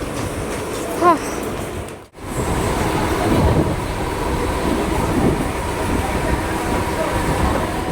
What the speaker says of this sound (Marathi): ट्रेन आलेली आहे आणि मी धावत आले मागून पुढे